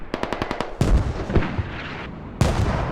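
Weapon fire in the video game Squad: a quick run of sharp, evenly spaced shots, then heavy booming blasts with a deep low thud, loud and close, with no talk over them.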